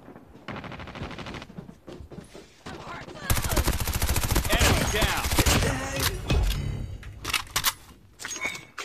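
Gunfire in the mobile game Call of Duty Mobile, with rapid automatic bursts and single shots, quiet at first and then loud and dense from the middle onward, with faint background voice.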